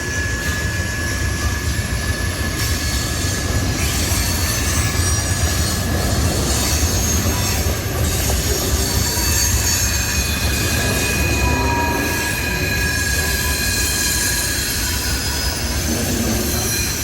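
A CSX freight train pulled by six engines rolls past close by, a loud continuous rumble of wheels and cars with metallic squealing throughout.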